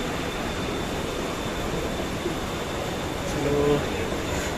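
A Mumbai local train running slowly over waterlogged tracks near Dadar during heavy monsoon rain, heard as a steady, continuous rumble and hiss at an even level.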